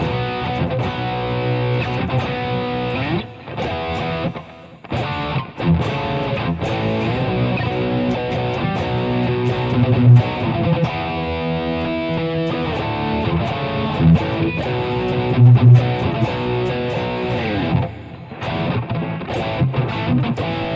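An electric guitar plays through a distorted DV Mark amp, a thick, saturated tone with sustained chords and riffs running continuously for about twenty seconds, broken by a few brief pauses.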